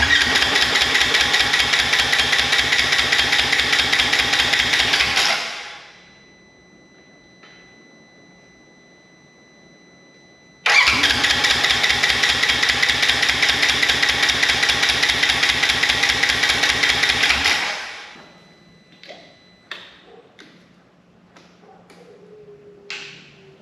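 A wrecked Polaris RZR side-by-side engine cranks and runs in a loud rapid chugging burst, cuts out, then fires again for several seconds before dying, with faint clicks and knocks afterward.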